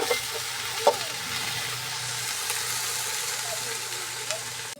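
Pako fern frying in a hot covered pan, giving a steady close sizzle with a few faint clinks of the lid or utensil.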